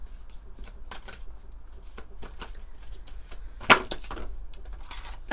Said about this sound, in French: J'ai envie de prendre une carte avec le tarot des flammes jumelles.